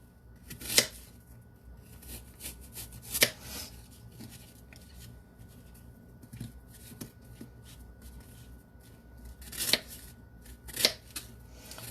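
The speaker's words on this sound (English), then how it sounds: "Cut it in little bite-sized chunks." Crisp, tart apples being cut into bite-sized chunks with a knife, a series of sharp, crunchy chops spaced irregularly in a quiet room, with a few louder strikes standing out.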